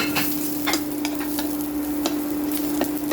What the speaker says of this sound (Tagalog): Gisa-gisa na tayo. Ating luya.